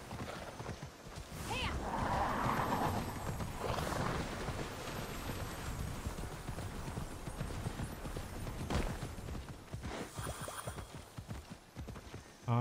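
Horse hooves clip-clop steadily in the Immortals Fenyx Rising video game, a rhythmic trotting patter under game ambience with a brief whinny, while a player talks over it.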